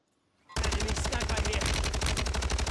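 STB 556 assault rifle firing in Warzone 3, a sudden loud burst of rapid automatic fire that starts abruptly after a moment of near silence and keeps up a fast, even rhythm to the end.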